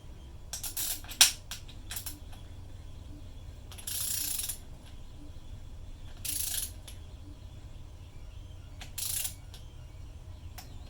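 Torque wrench tightening a valve cover bolt on a Mazda B2000 pickup, with several sharp mechanical ratcheting clicks and bursts spaced a few seconds apart over a low background hum.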